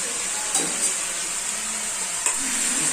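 Chicken frying in a pan with onion, garlic and tomato gives a steady, close sizzle, with a couple of soft stirring scrapes breaking through the continuous hiss.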